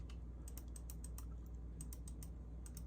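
Keys tapped on a computer keyboard in quick irregular bursts, soft and close, over a steady low room hum, with no talking.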